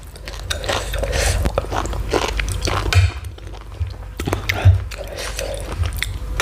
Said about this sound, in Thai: กุ้งสดกรอบมาก